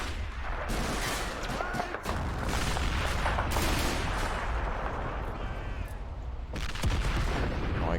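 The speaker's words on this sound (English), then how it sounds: "Seems like our mortars are doing a great job of eliminating enemy positions" Mortar fire in the World War II strategy game Men of War: Assault Squad, deep booming blasts and gunfire rolling through a full-scale battle along the Rhine, loud and continuous, with spoken voices in the mix.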